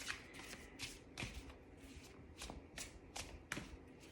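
Tarot cards being shuffled and laid out on a table, a series of soft papery riffles and slaps in irregular bursts, close and fairly quiet with no talking.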